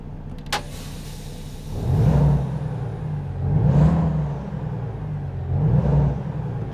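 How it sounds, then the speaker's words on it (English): A Volvo truck engine in American Truck Simulator, idling low and then revving up and easing back in three rising and falling swells, with a brief click near the start and no talk. "The Volvo engine."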